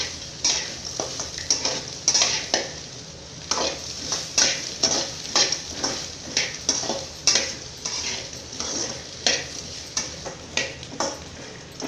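Coconut, onion, ginger and garlic stir-fry in a pan, with a continuous sizzle broken by rhythmic scraping strokes of a spatula roughly every half second, close and clear with no talking.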